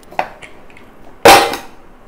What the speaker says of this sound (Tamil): இப்போ மூடி திறக்கிறதுக்கு ப்ரெஷர் சப்சைட் அடிச்சுட்டு திறந்துடுறேன்